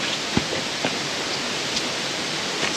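Steady broadband roar of Zenith Waterfalls near Pune during the monsoon, a constant rushing wash of falling water with no breaks and no voices, heard fairly close and even in level throughout.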